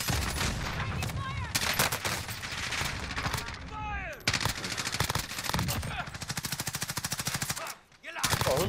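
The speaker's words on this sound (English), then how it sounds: "Oh, who the fuck is shooting at me?" Sustained rapid automatic gunfire in the Call of Duty Warzone shooter game, dense and loud, with rattling bursts from several weapons overlapping almost without pause, briefly dropping out near the end before resuming; a player's voice is partly audible under the shooting.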